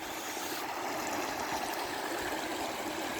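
A cold stream in a nature preserve flows past close by, its water rushing in a steady, broad hiss with no voices.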